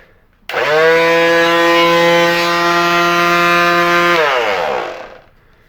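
Ryobi P440 18-volt cordless detail sander switched on, a loud steady high-pitched buzzing whine that starts abruptly, holds for about four seconds, then winds down as the motor stops.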